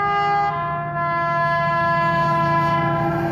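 A Freightliner freight train at Didcot Parkway on the Great Western Main Line sounds a loud, sustained one-tone horn close by, holding a steady note for several seconds over the rumble of the passing train.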